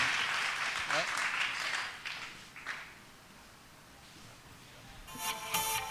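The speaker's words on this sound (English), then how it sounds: "All right, guys, a round of applause." A crowd at a tech startup event gives a round of applause, strong clapping for a couple of seconds that dies away to quiet before a voice speaks.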